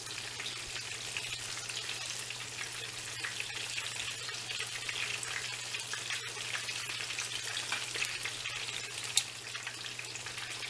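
Chicken cutlets for chicken parmigiana cooking in a pan, a steady, close, bright sizzle and spatter with a faint hum underneath and one sharp tick near the end, no voices.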